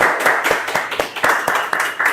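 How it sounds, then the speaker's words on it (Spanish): Rhythmic clapping from a studio audience during a Pamplona TV interview, close and fairly loud, with sharp hand claps landing roughly every quarter second over a short burst. "un fuerte aplauso para él"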